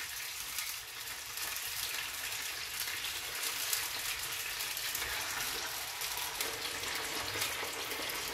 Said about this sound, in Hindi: चिकन अच्छी तरह भुन जाए तो उसके बाद हम इसमें लहसुन अदरक शामिल करेंगे।